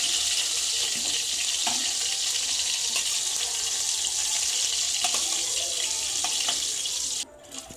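Onion fries in oil left over from frying ridge gourd, cooking for a katla fish curry. A dense, steady hiss and sizzle sits close and loud, then drops off abruptly near the end, with no speech.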